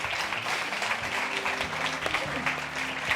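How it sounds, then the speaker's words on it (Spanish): Sustained audience applause fills a film festival hall, a dense and steady clapping throughout with faint voices mixed in. "vamos a darles un fortísimo aplauso"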